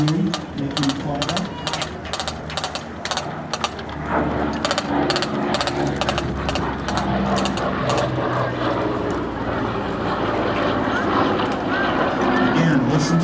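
A P-38 fighter aircraft's engines give a continuous, muffled drone with a rough, throbbing texture that holds steady throughout.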